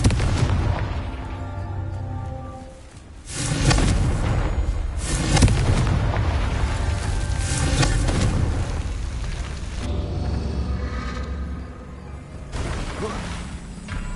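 Booming blasts from the Confringo blasting curse in a Harry Potter video game, several heavy explosions rumbling one after another with crackling debris, loud and close, no talking over them.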